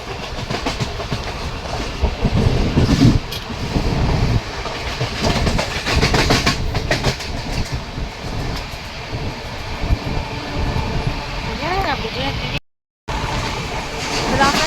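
The Chennai to Vijayawada Jan Shatabdi express runs at speed, a loud rumbling roar of the carriage with rhythmic clickety-clack over the rails, rattling throughout and a brief dropout near the end; a voice talks at times.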